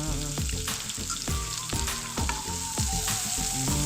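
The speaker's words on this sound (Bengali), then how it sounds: "এবার এগুলোকে খুব ভালো করে ভেজে নিতে হবে।" Pistachios, raisins and tomato being fried in a pan for broken-wheat pulao, a steady loud sizzle with repeated sharp clinks and scrapes of a spoon against the pan in a quick, uneven rhythm, no voices.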